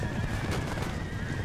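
Cavalry horses neigh and thunder forward in the Empire: Total War video game, a dense, continuous battle roar with hoof noise and a whinny rising briefly above it.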